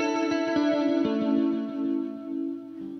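An electric guitar played through a Death by Audio Space Bender pedal with its delay time set to X10 rings out loud and close as a sustained chord, with quick bouncy repeats and a chorus-like warble as the sound decays.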